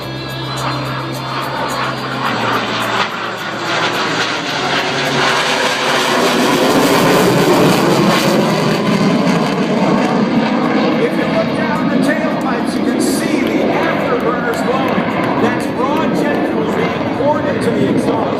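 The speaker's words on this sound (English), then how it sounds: "the FA-18 Hornet Carrier Configuration Pass" A US Navy F/A-18 Hornet from VFA-106 makes a carrier-configuration pass at an air show, a loud sustained jet roar that swells and holds across the whole stretch with broad rumbling noise.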